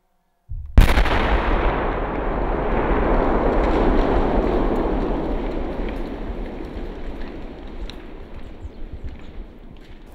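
The Latvian army demolishes a multi-storey building with explosives: one sudden, powerful blast, followed by a long roaring rumble of collapse and debris that slowly fades over several seconds.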